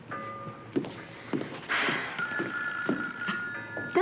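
A telephone ringing in a 1988 soap opera scene, several bright electronic rings repeating at a moderate pace with soft thuds and movement between them.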